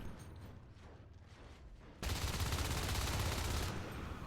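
Automatic gunfire rattles in a video game match, a steady background chatter that suddenly jumps into a loud, dense, sustained burst of rapid shots.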